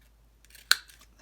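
Scissors snip the corner of backpack fabric in one sharp, close cut, preceded by faint rustling of the material.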